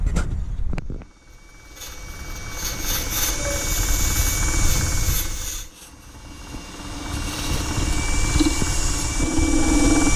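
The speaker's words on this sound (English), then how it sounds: "I'm cutting a tenon here, and I'll flip this thing around when I'm ready to hollow it out" A wood lathe spins a block of glued-up Corian while a roughing gouge cuts a tenon, giving a loud, steady machine whine with broadband cutting hiss that dips briefly twice before resuming.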